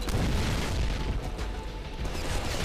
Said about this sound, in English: Whoa, grenade!